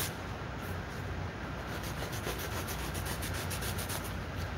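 A razor blade shaves and carves wood with a continuous dry scraping rasp, close and steady, with rhythmic strokes and no voices.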